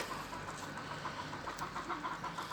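Backyard chickens, including some left outside the coop, cluck softly and intermittently at a distance over a faint steady hum of background noise.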